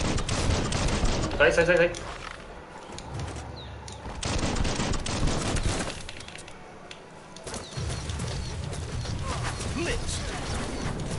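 Gunfire rattles in the action video game Biomutant, with dense, sustained bursts of shooting and impacts. Someone talks over the shots throughout.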